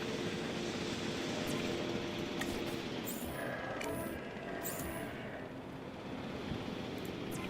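A helicopter in the video game Jurassic World Evolution 2 drones steadily with a constant engine rumble, briefly easing in volume midway before returning to its earlier level.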